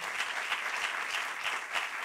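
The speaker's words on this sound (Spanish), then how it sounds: "un aplauso para estos compañeros" Steady applause from a forum audience for panel speakers at a Club Natación Sabadell centenary event, a dense continuous wash of many hands clapping at an even level throughout.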